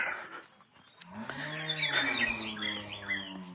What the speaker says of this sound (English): And the sound of the birds behind me.